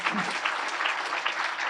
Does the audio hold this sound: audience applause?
yes